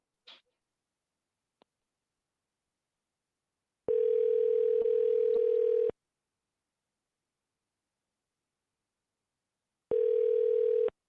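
Phone call tones before a voicemail greeting: two steady electronic ring bursts, one about two seconds long and a shorter one later, separated by silence, alone with no talking.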